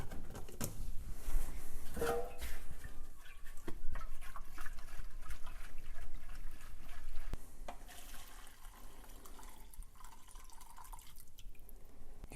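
Liquid is sloshed and rinsed through the fuel pump of a neglected, rusty MTD mower, with drips, splashes and small rattling knocks of debris coming out, moderately close.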